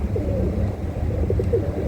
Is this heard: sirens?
no